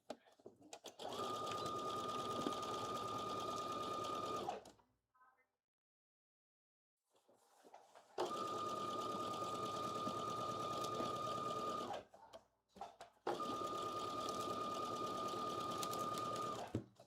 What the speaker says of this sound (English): now I'm gonna sew the other side the exact same way